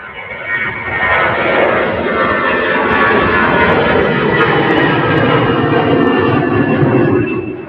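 An EasyJet airliner at Manchester Airport roars loudly and steadily, its engine noise swelling in and holding for several seconds before easing slightly, with no voices over it.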